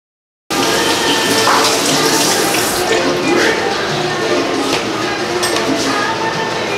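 Tap water gushes steadily into a soup pot in a home kitchen while chicken soup is being made, a loud continuous rushing flow that runs unbroken for several seconds.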